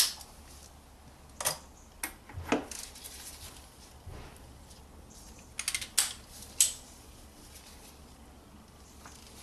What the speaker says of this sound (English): I'll be using a 27mm socket to remove that.